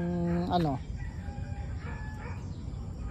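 A backyard rooster lets out one crow right at the start, fairly close, followed by quieter clucking and rustling from the chickens around it.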